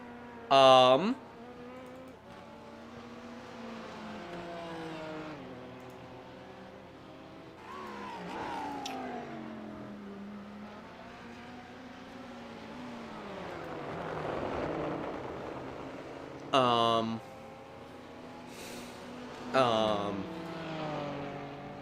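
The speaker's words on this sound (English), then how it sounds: "Enjoy some race car sounds" Race car engines in the iRacing video game at Sebring whine and climb in pitch, sweeping past in bursts at intervals, with quieter stretches of distant droning in between.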